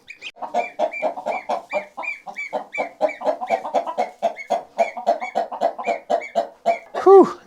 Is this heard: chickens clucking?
yes